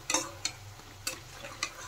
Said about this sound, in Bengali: উল্টে পাল্টে কিন্তু আমি চপগুলো ভালো করে ভেজে নেব, লাল লাল করে